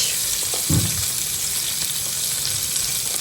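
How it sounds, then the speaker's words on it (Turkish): Köfte meatballs fry in a pan with a dense, steady sizzle and crackle throughout, plus a brief dull knock near the start and no talking. "Şimdi ben yavaş yavaş köfteyi falan kızartmaya geçtim."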